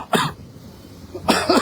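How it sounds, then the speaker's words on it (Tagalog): Two sharp coughs from a person outdoors by Manila Bay, close and loud, separated by about a second of quiet breezy ambience. "Excuse me po, inuubo tayo."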